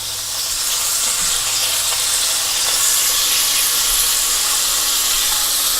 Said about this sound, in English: Just a little quick sear, there you go.